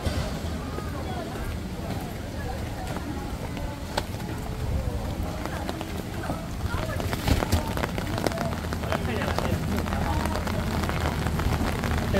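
Steady rain falls in an old water town near Suzhou, a dense continuous patter on surfaces with occasional sharper drips, filling the whole stretch evenly at moderate loudness with no voices.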